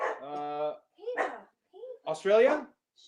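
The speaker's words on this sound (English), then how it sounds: "That's my dog." A pet dog barks and yips a few times close by, mixed in with people talking over it in a lively indoor party setting.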